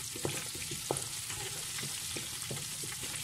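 Chicken frying in hot oil, turning golden brown, a steady close sizzle with soft clicks and light stirring knocks through it.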